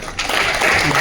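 An audience claps together at a formal address by the Governor of Uttarakhand, a dense and steady wash of applause that fills the whole moment.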